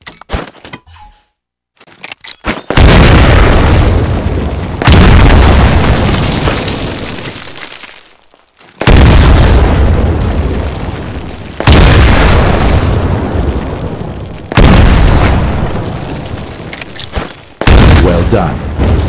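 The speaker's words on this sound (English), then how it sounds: "Throw a grenade into each of the windows." Grenade blasts in the video game Titanfall boom out one after another, six or so loud, heavy explosions with long rumbling tails, each crashing in a few seconds apart and crowding the scene.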